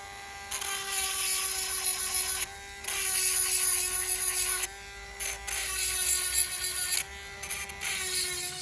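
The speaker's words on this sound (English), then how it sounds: "Handheld grinder, and this is how I do it." A handheld battery grinder sharpens a chainsaw chain on an Echo 390ESX, giving a high, whining buzz in repeated bursts of one to two seconds. Short pauses separate the bursts, and the sound stays close and fairly loud.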